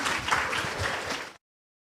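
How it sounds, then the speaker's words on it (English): Commencement ceremony guests give a brief burst of clapping that cuts off abruptly after about a second and a half, followed by silence. "Let's give them a loud hand of applause"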